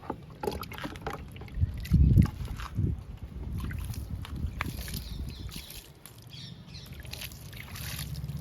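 Water is poured onto potted coleus plants in damp soil, with soft splashing and trickling close by and some handling noises.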